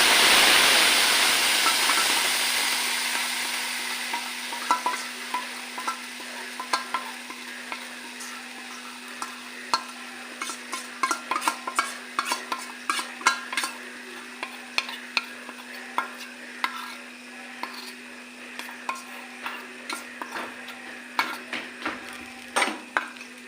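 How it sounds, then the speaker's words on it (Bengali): Spices frying for vegetarian chana masala in a pan, a steady loud sizzle that slowly fades while a spoon scrapes and taps the pan in irregular clicks throughout, with a constant hum underneath. "মশলাটা একটু ভালো করে ফ্রাই করে নিতে হবে।"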